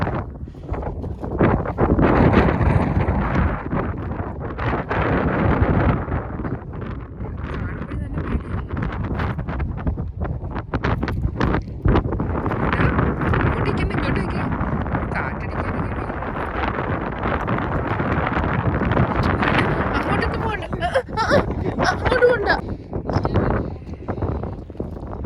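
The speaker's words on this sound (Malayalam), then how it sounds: "അയ്യോ കാറ്റുണ്ട്." Wind gusts across the top of Jebel Jais mountain in the UAE and buffet the microphone with continuous loud rumbling roars for about 25 seconds. Voices are faintly mixed in.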